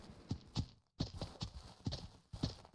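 Horses walk in a paddock in the Ranch Simulator video game, their hooves clip-clopping in a steady, fairly quiet rhythmic series with a brief gap partway through.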